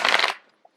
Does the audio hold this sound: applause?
no